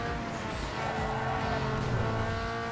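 In Need for Speed Underground 2, a game car's engine strains uphill with a continuous labored drone and faint tire noise, held at a fairly low, steady level throughout.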